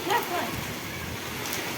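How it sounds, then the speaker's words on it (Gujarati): Heavy rain lashes down with strong gusting wind during a mini cyclone in Vejalka village, Ranpur taluka, Botad district, a steady close wash of roaring broadband noise for the whole moment. "અતિ ભારે પવન સાથે વરસાદ પડી રહ્યો છે"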